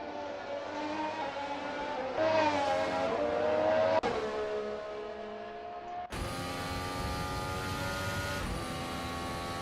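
Race car engine in a sim racing game at the Red Bull Ring, whining loudly as it revs up through gear changes, then cutting abruptly to a harsher, closer engine drone, with no voices.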